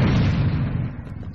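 Missile explosions from the Serious Sam HD shooter game burst out in a single loud, rumbling boom that quickly decays into a fading roar.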